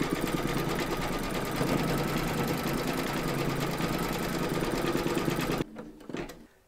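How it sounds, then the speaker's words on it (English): An embroidery machine stitches a quilt block in cream thread with a loud, steady, fast mechanical chatter up close, then stops abruptly near the end, leaving a few faint clicks. "Load your thread colour for the quilting of area 2 into your machine, and then stitch round number 5"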